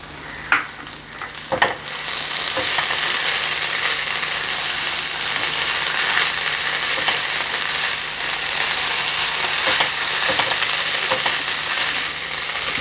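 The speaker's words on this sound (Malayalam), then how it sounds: "വെള്ളമൊക്കെ നന്നായിട്ടൊന്ന് പറ്റുന്നത് വരെ നമുക്ക് ഇളക്കി കൊടുക്കണം." Chicken filling for chicken mayo rolls stir-fried in a pan until dry, a steady loud sizzle with scraping stir strokes, a few sharp utensil knocks near the start.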